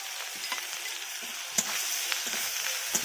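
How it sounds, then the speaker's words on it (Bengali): Spices sizzle steadily in a hot pan with fried onions, turmeric and chilli powder while a spoon scrapes and stirs through them in quick, irregular strokes, close and alone. "ভালো করে নাড়াচাড়া করে নিচ্ছি"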